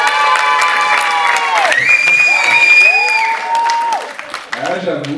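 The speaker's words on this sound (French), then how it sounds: "On peut l'applaudir à la capitaine." A crowd applauds and cheers the captain of the French women's handball team. Bright clapping sits under loud, sweeping shouts and calls close by.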